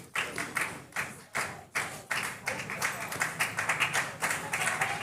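Red Sox fans at a baseball game applaud a solo home run with a thin, rhythmic patter of individual claps, close and fairly loud, while a commentator talks over them.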